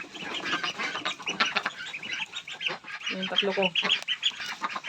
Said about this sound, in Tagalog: Yan na yung ating Peking duck.